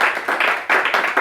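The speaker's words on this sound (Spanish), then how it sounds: "Vamos a darle un aplauso a la solución" A church congregation applauds, with loud bursts of clapping from many hands rising and falling in a pulsing rhythm over about a second.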